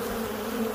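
Swarm of killer bees buzzing close around a man's ear during Arizona beekeeping, a steady dense drone with no talk.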